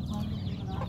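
Mother hen clucking low and softly while scratching and digging in soil for food for her chicks, a brief run of close, throaty clucks.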